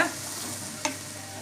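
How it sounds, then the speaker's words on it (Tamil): Bread pieces stirred and frying in a pan for chilli bread, a soft continuous sizzle with a single short scrape of the spoon partway through. "இப்போ நம்ம வந்து நல்லா மிக்ஸ் பண்ணிடலாம் மேலே கீழேயுமா அப்படி நல்லா கிண்டி விட்டுக்கோங்க"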